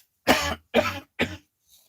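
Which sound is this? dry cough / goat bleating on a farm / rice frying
dry cough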